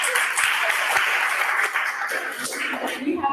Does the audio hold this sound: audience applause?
yes